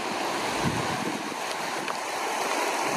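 Muddy brown rainwater rushes steadily down a channel, a dense continuous roar of flowing water that stays loud and even throughout with no voices.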